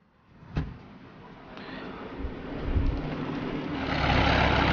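A fire truck engine in the Emergency 4 video game with an Italian Rome mod rumbles steadily and grows louder over several seconds, with a sharp thump early on and no voices.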